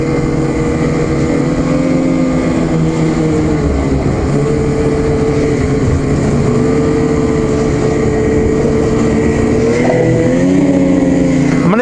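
A 2021 Ski-Doo XRS snowmobile with rMotion X and RAS X suspension drives at steady speed. Its engine holds a loud, close, continuous drone, and the pitch rises briefly near the end.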